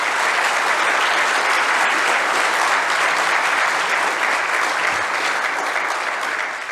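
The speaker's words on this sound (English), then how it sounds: "a round of applause for our volunteers" Sustained loud applause from a conference audience for the event's volunteers, a thick even wash of clapping that tapers slightly at the end.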